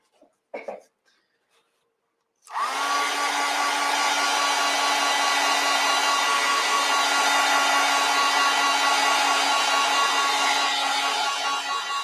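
A hair dryer drying watercolor paint on a nature journal page switches on after a few faint clicks and a throat sound, then blows in a loud, steady whir for the rest.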